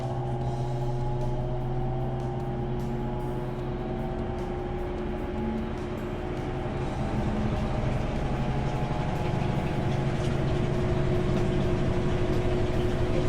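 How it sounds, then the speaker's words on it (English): Empty drum of a Maytag Bravos washer spinning in diagnostic test mode, a steady motor hum with faint tonal whine held evenly throughout, close and continuous with no talking. "And you can see how the drums kind of spins."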